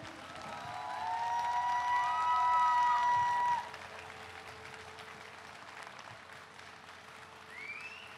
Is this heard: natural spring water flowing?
no